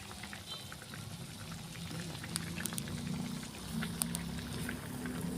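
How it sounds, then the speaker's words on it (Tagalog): Liquid bubbles steadily in a pot, a low continuous burbling with small pops and crackles near the surface. "Kumukulo na."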